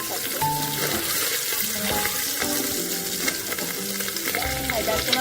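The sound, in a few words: eggs frying in hot oil in a pressure cooker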